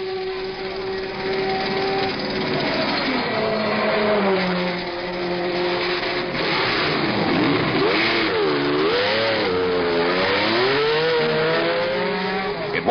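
Race cars, among them Porsches and a Ferrari, roar past at the Sebring 12 Hours, engines rising and falling in pitch as they accelerate and pass, loud and continuous with faint commentary underneath.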